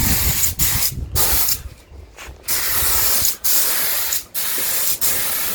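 Spray gun applying paint on a 1938 SS Drophead Jaguar restoration: steady, loud close hiss in long bursts, broken by several brief pauses as the trigger is released.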